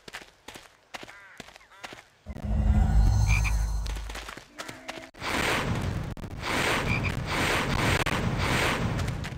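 A chocolate frog croaks in the Harry Potter and the Chamber of Secrets video game, a loud, sustained raspy sound broken by short gaps, following softer scattered clicks and rustles.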